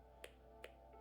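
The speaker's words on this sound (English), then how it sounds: "He actually claps." A character claps in the Danganronpa Another 2 video game: three sharp, quiet claps, evenly spaced and isolated against a faint background hum.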